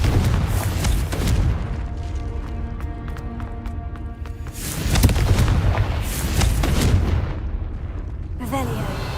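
Confringo fire spell blasts in the game Hogwarts Legacy, heavy rumbling booms and crackling bursts layered over busy game noise, loud and close, with brief speech during the action.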